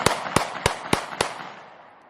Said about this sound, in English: What that is, the Glock 19.